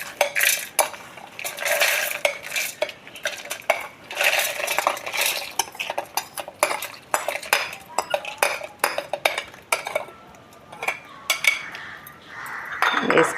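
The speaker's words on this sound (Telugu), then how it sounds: "ఇందాక వేయించుకున్న పప్పులన్నీ మిక్సీ బౌల్లో వేసుకుందామండి" Roasted lentils tumble into a steel mixer-grinder jar, giving close, repeated rattling clatters and clinks in uneven bursts.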